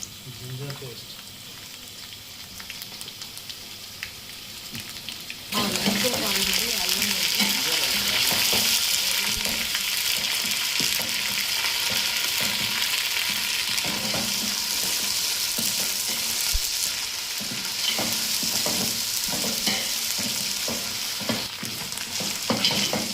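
Ginger garlic paste drops into hot oil in a pan for an Andhra-style chicken masala fry, bursting into loud steady sizzling and frying with repeated scraping stirs, continuous and close after a quieter start.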